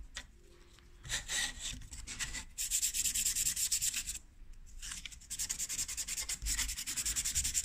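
An aluminium sheet surface is abraded by hand, leaving scratches: repeated close, gritty back-and-forth rasping strokes in bursts with brief pauses, with no talk.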